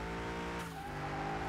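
Tires squeal steadily as a car drifts through a turn in Car Mechanic Simulator 21, with a sustained engine drone underneath the continuous screech throughout the short burst.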